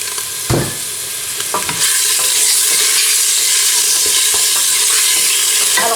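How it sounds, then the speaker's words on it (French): Beef pieces sizzle loudly as they brown with crushed garlic in a hot pan, with a few stirring clatters early and then a steady close frying hiss. "J'ai pris des morceaux de bœuf, je les fais colorer avec de l'ail"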